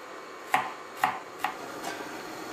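Garlic cloves sliced thinly with a knife, four crisp cuts spaced about half a second apart, close and fairly quiet with no talking.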